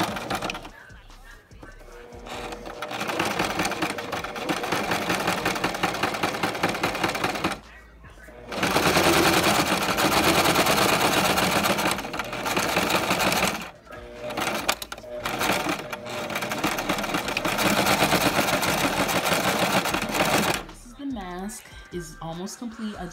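A sewing machine stitches down excess fabric on a thrifted garment, its rapid mechanical chatter running loud and steady in long bursts broken by a few brief pauses.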